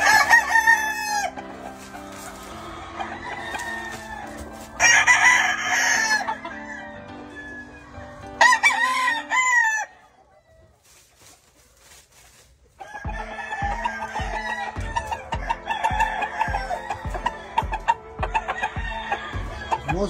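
A Yellow Leg Hatch rooster crows loudly several times up close, with clucking from other fowl around it and a brief quiet pause before the crowing resumes.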